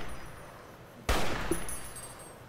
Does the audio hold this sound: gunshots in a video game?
yes